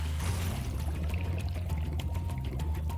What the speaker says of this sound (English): good job me falling in the water again.